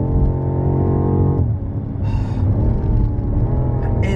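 A 2019 BMW M5 F90 with its 8-speed ZF gearbox driven hard on a road, its engine roaring loud and steady from inside, then a quick shift and renewed acceleration with a deep rumbling growl.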